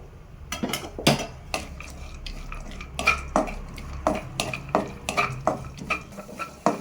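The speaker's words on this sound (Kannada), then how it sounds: "ಸ್ವಲ್ಪ ಗೋಡಂಬಿ, ಆನಂತರ ಒಂದು ಸ್ವಲ್ಪ ದ್ರಾಕ್ಷಿಯನ್ನು ಫ್ರೈ ಮಾಡ್ಕೋಬೇಕು" Cashews and raisins frying in ghee in a pan for rava laddu, a spoon clinking and scraping against the metal in irregular strokes over a low background sizzle, close up with no talking.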